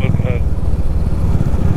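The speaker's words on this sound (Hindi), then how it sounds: "अफ्रीका ट्विन तो अच्छी चल ही रही है" A Honda Africa Twin motorcycle climbing a steep mountain road, its engine a steady low drone with wind noise close by, while a brief faint whistle-like tone sounds near the start.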